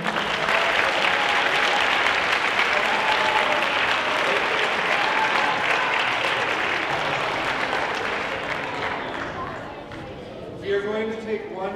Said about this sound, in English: One big last round of applause before a photo.